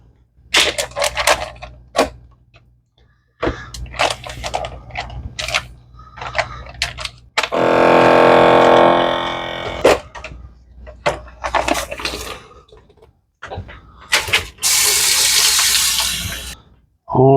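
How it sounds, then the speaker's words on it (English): A vacuum sealer sealing a bag of bacon runs with a steady, loud motor whir for a couple of seconds, then later a hissing release, amid clicks, clatter and speech. "then we'll get this in the vacuum sealer."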